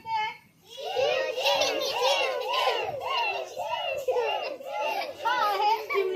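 A group of village schoolchildren in a classroom imitate sparrow calls together, rapid repeated high chirping voices in a loud, continuous, slightly uneven chorus.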